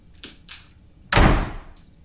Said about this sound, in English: are we slamming doors in this house?